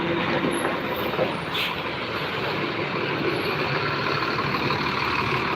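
Metro bus engine idling smoothly and quietly nearby, a steady low rumble with a faint hiss of air partway through.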